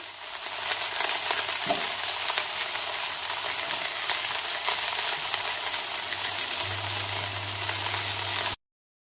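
Vegetables, green peppers among them, sizzle and caramelize in a pan as a dense, steady fry crackle runs unbroken for about eight seconds, with a faint low hum beneath and no talking.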